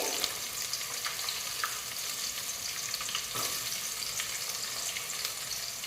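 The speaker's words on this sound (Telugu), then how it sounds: "ఇవన్నీ ఫ్రై అవుతుండగానే ఆనియన్స్ అయితే వేసుకోవాలి." Onions and spices frying in a pan, an even, fairly quiet sizzle hissing steadily throughout with a few faint stirring clicks and no talking.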